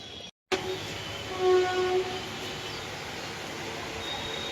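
Railway station ambience after dark, heard from a station restaurant while waiting for the Howrah Rajdhani Express: a steady, broad rumbling hum with a brief dropout near the start and a tonal, horn-like swell midway.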